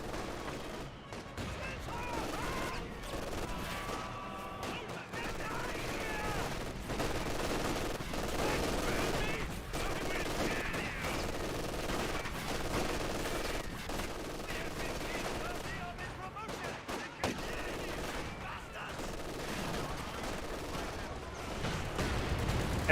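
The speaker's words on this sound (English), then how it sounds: "Mortars hitting the MG42." Mortar impacts and bursts of MG42 machine gun fire in the World War II strategy game Company of Heroes 2, steady rattling and crackling gunfire filling a busy battlefield at moderate loudness.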